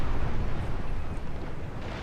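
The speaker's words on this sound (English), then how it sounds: "we'll begin the fight with my frigates firing on a French frigate" Naval cannons boom from frigates in a sea battle in Napoleon Total War, blending into a dense, continuous low rumble of broadside fire that stays loud throughout, with no talking.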